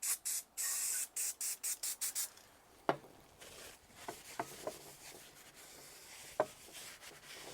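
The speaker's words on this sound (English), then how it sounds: "and then we're going to put some high temperature paint on it." Aerosol can of high-temperature paint sprayed onto a cleaned car part in short, close hissing bursts, about eight in quick succession, followed by quieter handling clicks and knocks.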